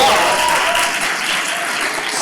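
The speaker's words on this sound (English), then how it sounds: "can we have a round of applause" A keynote audience at AdventureX 2025 claps steadily, a dense wash of applause that holds its level throughout.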